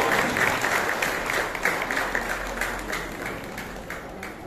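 An audience at a women's honour award ceremony breaks into loud, sustained applause, with dense clapping that rolls on steadily for several seconds and fades slightly toward the end.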